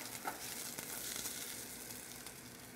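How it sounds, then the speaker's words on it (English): Onions sauté in a pan with a steady, close sizzle and light crackling and occasional stirring noises, with no talking. "So I'm going to saute them up a little bit."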